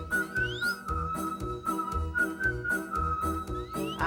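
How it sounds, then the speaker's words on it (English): A melodic whistled tune plays over a rhythmic musical accompaniment, the whistle clear and sustained with short sliding notes. "Anytime you want me, you can whistle in this way."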